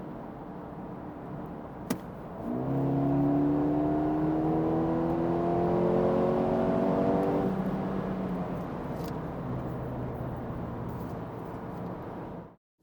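A Mercedes-AMG A35 with a two-litre turbocharged petrol engine and 7DCT gearbox accelerates from inside the cabin, a steady rising engine tone climbing through gears over several seconds, then settling into a smooth cruising hum.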